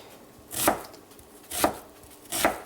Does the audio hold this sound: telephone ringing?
no